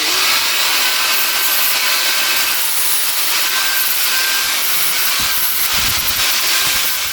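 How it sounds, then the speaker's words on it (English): An angle grinder or abrasive tool grinds steel down to bare metal to prep pieces for TIG welding a pouring shank for a large crucible; a loud, steady, continuous hiss-like grinding roar fills the whole stretch with no speech. "So always make sure to work with clean metal, to grind it so it will be bare metal."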